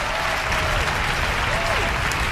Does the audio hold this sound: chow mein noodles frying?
no